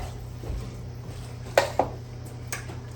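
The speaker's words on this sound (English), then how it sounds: "just stir it" Spoon stirring Southwest casserole in a pot, a few soft clacks and scrapes against the pot over a steady low kitchen hum, close and quiet.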